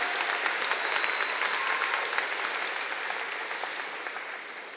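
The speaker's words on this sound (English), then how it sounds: "So how about a big round of applause for all of them?" A round of applause for recognized students fills a school hall, dense and steady clapping from a large audience that slowly fades toward the end.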